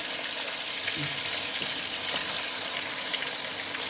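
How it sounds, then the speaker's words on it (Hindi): Fish pieces shallow-frying in oil in a pan for Indian fish korma, a steady bright sizzle and crackle holding evenly for a few seconds with no talking over it. "ज़्यादा डीप फ्राई नहीं करना है, चलो फ्राई करके ही निकाल लेंगे"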